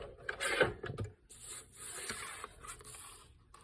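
Cutting and trimming a piece down to size, heard as close, irregular rasping and rubbing strokes with a heavier scrape near the start, continuing unevenly without talk.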